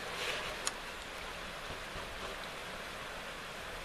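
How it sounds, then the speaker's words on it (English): Spring water bubbling up on a wooded ridge makes a steady, soft, hissing wash of running water, continuous and even, with one brief click partway through. "right over there looks to be a spring bubbling up"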